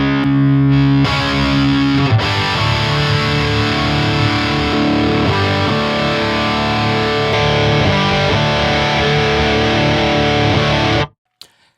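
Heavily distorted electric guitar through a PV6505 amp profile preset, loud and close, with sustained chugging chords and riffs for about eleven seconds before cutting off abruptly to near silence.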